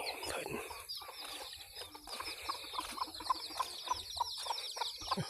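Chickens cluck at a rural Thai home, a steady run of short, close clucks repeating through the whole stretch over a low, busy background.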